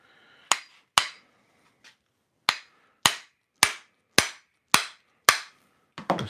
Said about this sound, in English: I'm going to get my hammer and pop it the rest of the way on.